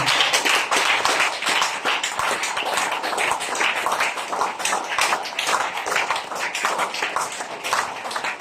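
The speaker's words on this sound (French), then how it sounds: "Nous allons donner une acclamation au Seigneur" A church congregation applauds at a French-language service, dense, steady clapping from many hands filling the whole stretch at close range.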